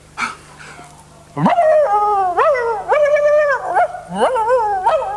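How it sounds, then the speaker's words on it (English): Several dogs howl together in drawn-out, wavering tones that rise and fall, loud and close, with a few shorter yelps at the start and no talking over them. "They're teaching me to sing because they're singing dogs"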